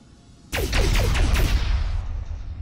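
Heavy ship weapons in the space game Starpoint Gemini 2 open fire with a sudden loud onset and a rapid run of five or six booming shots, then a rumbling wash that slowly fades.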